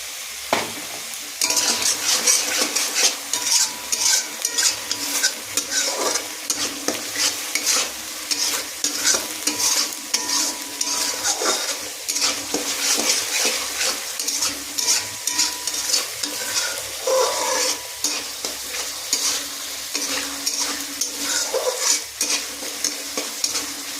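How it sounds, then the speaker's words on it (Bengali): Food fries in a pan while a utensil stirs and scrapes against it in quick repeated strokes over a continuous sizzle, close and busy for the whole stretch, with no talking. "ভালো করে ভাজতে হবে।"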